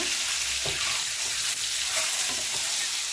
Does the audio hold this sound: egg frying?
yes